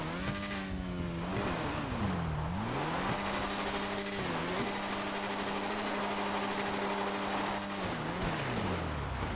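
A motorcycle engine in GTA 5 Online buzzes loudly and close, with revs rising and falling in several sweeps before settling into a steady high drone, and nobody talking over it.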